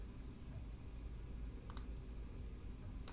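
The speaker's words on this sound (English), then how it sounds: "So let's click here" Two brief, crisp mouse clicks in photo editing software, one near the middle and one at the end, over a steady low room hum with no talk.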